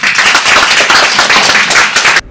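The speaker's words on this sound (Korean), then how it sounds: "우리 목사님 나오실 때 이제 박수로 좀 환영을 하시고" Close, loud applause in a church seminar hall as a pastor is welcomed to the stage, a brief burst of dense clapping that cuts off abruptly.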